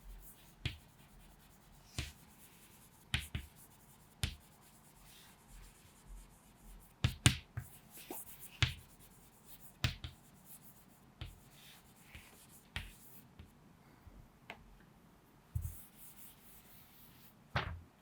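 Chalk or marker tapping and scraping on a classroom board during a chemistry lesson on metals and amalgams, heard as a scattered series of short, sharp taps and strokes, fairly close, over a quiet room with no talk.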